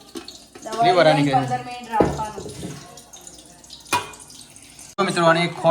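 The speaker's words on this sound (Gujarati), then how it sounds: "પછી આ પાણી ભરવાની ગરમ ગરમ પાણી રેડીને કમ્પ્લીટ થઈ ગયું" Hot water is poured into a pan of roasted flour, a splashing, running stream in bursts, with someone talking over it.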